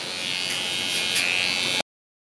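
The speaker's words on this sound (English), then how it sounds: "With my cordless magic clips, I'll start the blend" Wahl cordless Magic Clip hair clippers blending a bald fade, a steady close electric buzz running unbroken for almost two seconds before cutting off abruptly, with no talking.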